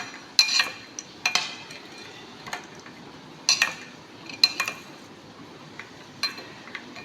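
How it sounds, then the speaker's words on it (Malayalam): Karare masala snack being mixed with lemon in a bowl: sharp spoon-on-bowl clinks and scrapes in irregular bursts, close and fairly quiet. "നല്ലോണം മിക്സ് ചെയ്യണം."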